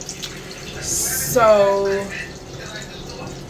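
Tap water runs briefly into a sink for face washing, a short hiss and splash lasting about a second amid indoor room noise, with someone speaking just before.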